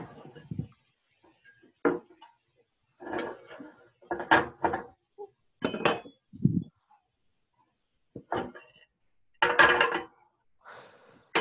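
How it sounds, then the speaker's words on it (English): Ceramic dishes clink and knock sharply as a plate is pulled from a stack in a home kitchen, a series of close, irregular clatters separated by brief pauses. "And grab my plate here."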